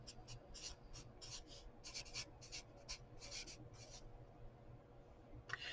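Pen scratching words onto paper in short repeated strokes, close and quiet, a steady rhythm of scribbles with brief pauses, done as part of a mixed media art page.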